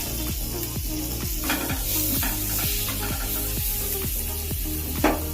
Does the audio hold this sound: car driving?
no